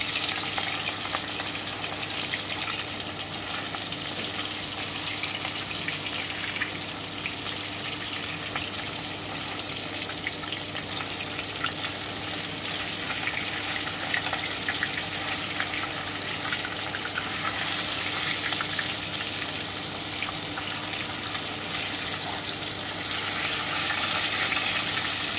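Katla fish frying in hot oil in a wok, a dense, continuous hissing sizzle that stays strong and even throughout, close up with no talking.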